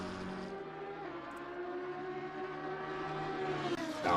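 A race car in the Assetto Corsa video game, a colourful Lexus on the Oulton Park circuit, holds a loud steady engine roar with rising revs near the end, as during burnouts.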